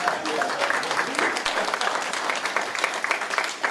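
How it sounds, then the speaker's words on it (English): Steady applause from an audience at a book launch, honouring Dr. Kenny Anthony after his feature address; dense, even clapping fills the room without pause, with faint voices mixed into the crowd. "let us give him another round of applause"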